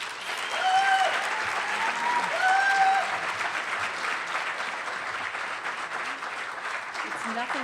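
An enthusiastic audience at a Media Studies 40th anniversary keynote celebration applauds to welcome the keynote speaker, sustained dense clapping with a few whistles, steady and full throughout.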